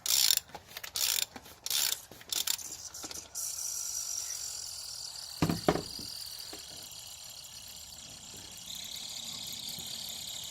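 A half-inch drive ratchet with a socket turns bolts on a Ford Super Duty 6.0 diesel during oil cooler work, giving quick bursts of clicking early on, then a steady mechanical whir with a few sharp knocks, close and fairly quiet.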